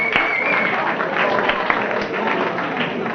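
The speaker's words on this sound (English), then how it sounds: "Let's give it a great big round of applause" A pub quiz crowd in a tavern applauds, a steady, moderately loud patter of many hands clapping at once, with some voices mixed in.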